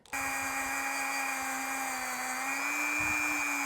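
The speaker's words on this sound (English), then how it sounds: "We're just going to use this little bitty Dremel to get in all these little nooks and crannies to get everything cleaned up." A small Dremel rotary tool whines steadily at high speed while cleaning engine parts for a Ford 460 install, a continuous close, loud tonal buzz with slight pitch drift and no talking.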